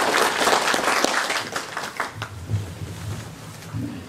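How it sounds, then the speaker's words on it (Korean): An audience at the Nogeun-ri Peace Prize award ceremony claps steadily, a bright room-filling patter of applause that tapers slightly toward the end with a faint low murmur. "박수로 환영해 주십시오"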